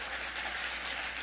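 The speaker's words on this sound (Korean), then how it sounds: "우리 장로님들에게 박수 한번 하실까요?" A church congregation applauds its elders during a Sunday service, a dense, even wash of many hands clapping continuously and fairly loud, with no individual claps standing out.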